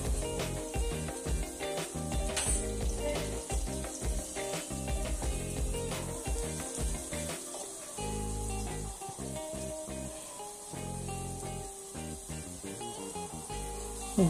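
A spoonful of cumin seeds sizzles in hot oil in a pan, with sliced onion pushed to one side, while a dry potato bhaji is being made. There is a steady, close hiss and crackle throughout, under music.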